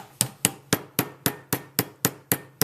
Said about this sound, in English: And we'll take a little hammer.